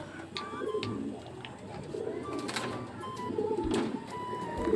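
Pigeons coo steadily at close range as the birds are herded into their loft during bad weather, with soft wing and movement noises mixed in and no clear speech.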